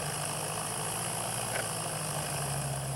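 A simulated aircraft engine idles and hums steadily while taxiing in a flight simulator game, forming a quiet, continuous drone with no change in pitch and no voices.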